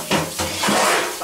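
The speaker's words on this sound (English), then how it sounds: "I'm going to take a pan and put a pan underneath the whole works." A metal pan clanks into an oven beneath an apple pie, giving a couple of short, close metallic knocks and scrapes in a kitchen.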